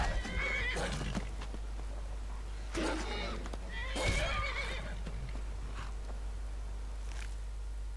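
A horse in Skyrim neighs and whinnies repeatedly while fighting a wolf, with several loud bursts of shrill calls, scuffling hoof clatter and a steady low hum beneath.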